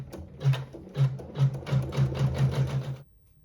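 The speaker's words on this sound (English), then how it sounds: "And then we'll go ahead and sew the seam." A sewing machine stitches a fabric seam in a quick series of rhythmic mechanical thumps that speed up slightly, then stops abruptly, close by with no talking.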